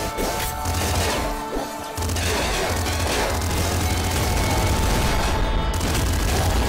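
Loud weapon fire in the top-down shooter Nuclear Throne, a steady barrage of crunchy impacts and blasts filling the whole stretch with no talking.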